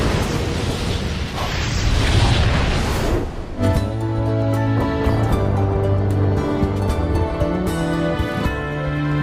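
Explosion of the ship Oslo in an anime: a loud, dense roaring blast that fills the first few seconds, then gives way abruptly to sustained, layered droning tones and rumbling that continue to the end, with no speech.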